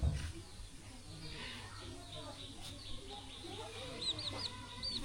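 Chickens clucking on a poultry farm, soft scattered clucks and a few higher chirps at moderate distance, with faint background noise throughout.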